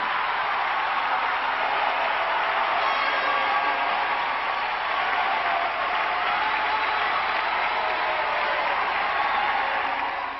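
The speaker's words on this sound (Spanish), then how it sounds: "¡Un aplauso!" Sustained applause from the audience at the Nuestra Belleza México 2004 beauty pageant, a steady dense wash of clapping at even loudness filling the whole stretch with no voices on top.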